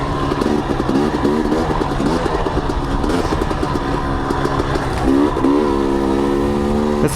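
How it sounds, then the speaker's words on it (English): A 2021 KTM 250 XC dirt bike being ridden, its engine droning steadily with rising and falling pitch as the throttle opens and eases, loud and close throughout without talk. "Riding the 250 XC 2021. She's smooth as butter today."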